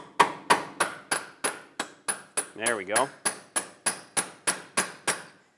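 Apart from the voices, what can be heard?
hammer tapping a punch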